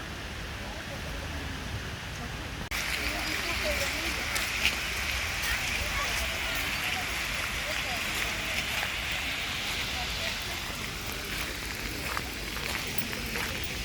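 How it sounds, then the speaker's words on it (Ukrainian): Light rain patters steadily outdoors near a fountain on a walking tour, a broadband hiss that thickens after the first few seconds and continues with faint scattered sounds. "Дощик"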